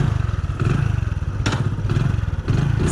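A Hero HF Deluxe motorcycle is ridden along, its small single-cylinder engine putting in a close, fast and steady rhythm with occasional clattering knocks from the bike.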